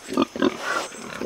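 Large pigs, around 400 pounds, grunt repeatedly while rooting and tilling soil in a field, several close, loud, rhythmic snorts in quick succession.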